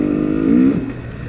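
A 2020 XC250 TPI two-stroke dirt bike engine revs loud and close while riding, the pitch climbing briefly before easing off.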